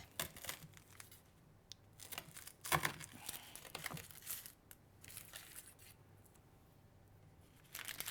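A knife trims the edges of baked puff pastry for a cinnamon and berry millefeuille, with soft crisp crunching and flaky crackles in short bursts, quiet and close, with pauses between cuts.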